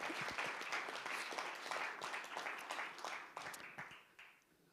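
Summit audience giving a speaker a warm round of applause, dense sustained clapping at a strong level that gradually thins and fades toward the end.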